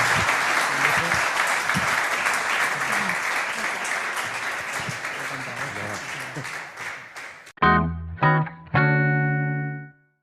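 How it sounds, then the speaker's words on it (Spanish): Conference attendees give sustained applause that stops abruptly after about seven and a half seconds, followed by a bright, tonal electronic music sting. "como tenéis las manos libres, venga, aplaudir"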